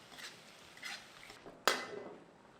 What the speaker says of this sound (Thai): ลงมาคลุกเค้าผัดให้ทั่วนะครับ